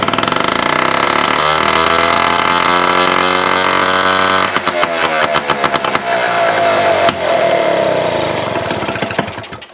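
A Motobécane Solex moped engine running with no exhaust pipe, loud and close, with a steady raw buzzing drone. Partway through it breaks into rapid popping and stuttering firing, then steadies again.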